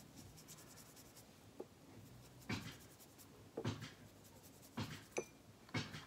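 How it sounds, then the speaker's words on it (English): A washable marker scratches and rubs across wet paper in quiet, intermittent strokes, close up with a few soft bumps and no talking. "washable markers can be so cool, because they can double as a paint when you add water to your paper"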